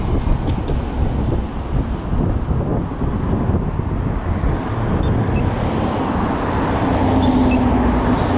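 Dense traffic roars steadily beside a freeway, a broad continuous rush that swells toward the end, with wind buffeting the microphone throughout.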